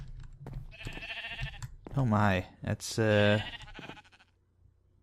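Sheep in the Minecraft-based game NeoCraft bleat twice in loud, drawn-out calls close by, with a person talking over the quieter stretches.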